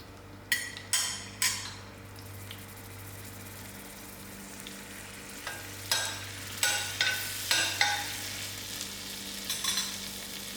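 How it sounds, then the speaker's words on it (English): Quiet sizzle of ginger frying in melted butter over a low hum, broken by soft clinks and scraping strokes of a utensil stirring in the pan. "while the ginger is frying out"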